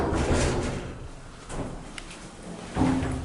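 A 1990s Otis Series 1 hydraulic elevator door at a hotel slides shut with a low rumbling glide, followed by a soft thud as it meets the frame, heard close with faint hum around it.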